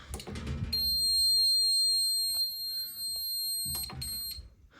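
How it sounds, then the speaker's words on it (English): A loud, steady electronic buzzer tone from an Apollo MxPro4400 fire alarm panel sounds continuously for several seconds during a system test, starting after a brief clatter of button presses and cutting off near the end. "You can test the buzzer,"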